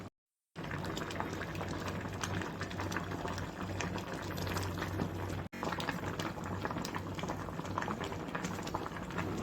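Dal and ponnaganti greens boiling in a pot, a continuous close bubbling roil of liquid, steady and moderately loud after a brief silent start, with one short cut midway and no voices.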